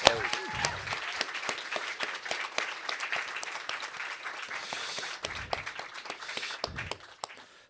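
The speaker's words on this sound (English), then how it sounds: "let's give another round of applause for the performance" An audience at a poetry and music event gives a round of applause after a performance, steady crisp clapping from many hands that thins briefly near the end.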